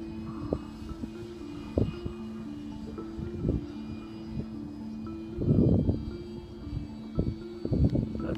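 A model aircraft engine on a flight test B power pack runs at half throttle, a steady buzzing drone with a droning harmonic tone, broken by brief throttle blips and rising surges in the middle and near the end.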